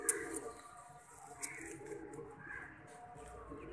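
A female Teddy breed pigeon coos softly in a quiet indoor space, with a few faint, low, rolling calls and small rustles close by.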